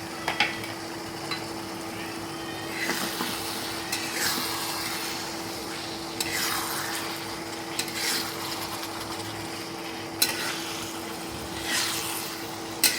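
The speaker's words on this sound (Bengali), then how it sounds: "ম্যারিনেট করা চিংড়িগুলো মশলার মধ্যে ঢেলে দিয়ে ভালো করে একটু কষাবো।" Marinated prawns stir-fried in a spice masala with tomato, a steady close sizzle broken by repeated scraping stirs and occasional spatula clinks against the pan.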